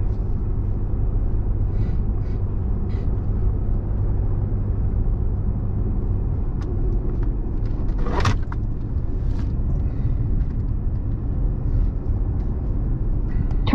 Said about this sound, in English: We're going to start our back roads driving through Wyoming